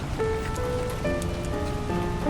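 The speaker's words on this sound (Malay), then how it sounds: "Dah hujan ni." Steady rain falls outdoors, a dense continuous hiss of drops on surfaces, close and even throughout, with faint tonal background sounds and no talk.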